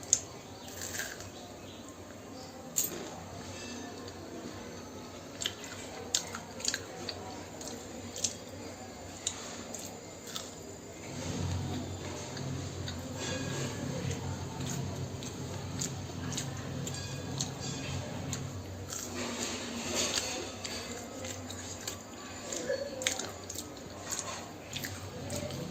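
Crunchy onion fritter (piyaji) dipped in sauce being bitten and chewed close to the mic, with soft squishy munching and small clicks running steadily over a faint room background.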